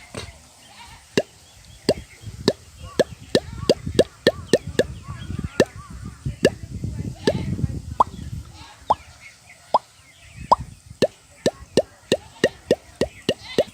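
A man imitates the sound of a pipe being sunk for an arsenic-free tubewell in a village, making a long series of sharp hollow plops and knocks. They come at a fairly steady rhythm, with a rumbling churn between some of them.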